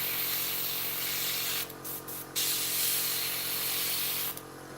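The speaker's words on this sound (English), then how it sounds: "So you just spray it on the wheel and you are good to go." Short bursts of aerosol primer hiss onto a 1/48 scale model aircraft wheel held on its resin base, close and steady, with a brief break of stop-start sprays before the hiss resumes and another burst starts near the end.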